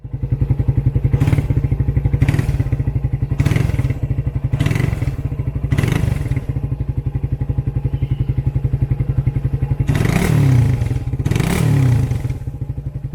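A Suzuki Satria FU motorcycle exhaust idles with a steady, rattly putter, broken by several short revving blips that rise and fall, close by with no talking.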